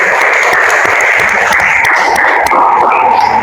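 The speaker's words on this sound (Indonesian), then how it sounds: "beri aplaus untuk kelompok 2" A classroom of students gives a short burst of applause for a group that has just presented. The clapping is dense and steady and lasts a few seconds, with no voices over it.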